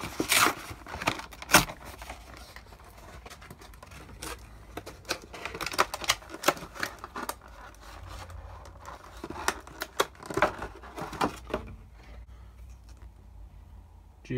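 A Pokémon TCG booster pack is torn open by hand, giving a run of crinkly foil rips and scratchy crackles, close and fairly quiet, fading out near the end.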